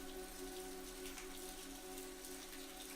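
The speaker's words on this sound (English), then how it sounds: "the rain continued to fall relentlessly" Steady rain falls and patters on the ground, an even, continuous hiss of drops close by with no voices.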